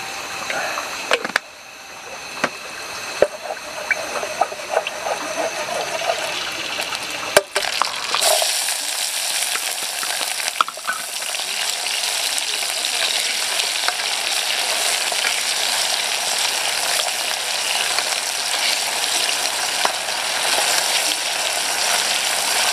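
Sliced tomatoes stir-fry in hot oil with a continuous sizzle that grows louder and denser partway through, broken by occasional clinks and scrapes from stirring.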